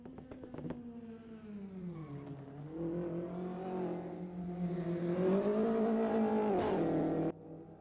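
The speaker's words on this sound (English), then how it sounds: "I love the sounds that the Audi is making. It's like normal exhaust burbles with the odd random bang." An Audi race car at Sonoma Raceway burbles through its exhaust and pops with an occasional sharp bang, its engine note rising and falling as it accelerates, loud and close, with no talk over it.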